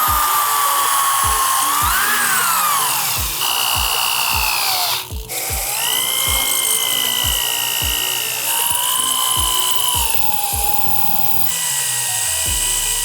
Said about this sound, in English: we're gonna drill all the way through it because we're gonna bolt in from the other side